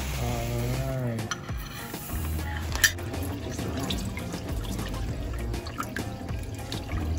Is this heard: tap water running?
yes